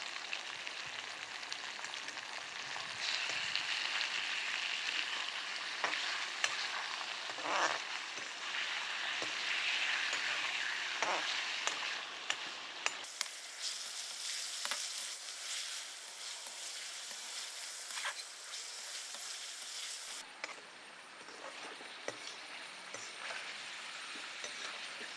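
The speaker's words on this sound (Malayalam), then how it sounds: "ഇനിയിപ്പോൾ നമ്മൾ ഈ എണ്ണയിൽ ഈ ചിക്കൻ നന്നായിട്ട് ഫ്രൈ ചെയ്തെടുക്കണം" Chicken pieces frying in hot oil for chicken noodles, a steady close sizzle and crackle with scattered pops that continues throughout, no voices.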